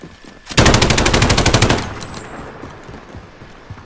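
Automatic gunfire in Call of Duty Modern Warfare, a loud rapid burst of about a second from close by that cuts off into fading echo and quieter game ambience.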